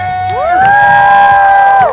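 A crowd at a clown's summer show cheers the announcement of fire torches, with a loud voice rising into a held whoop for about a second over the general crowd noise, then cutting off.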